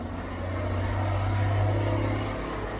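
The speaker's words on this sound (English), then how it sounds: "There's a bridge right next door crossing the river, so you can hear the trucks going over." Trucks crossing a river bridge right beside a house, a loud continuous low roar that swells slightly in the middle, steady broadband traffic rumble with no speech.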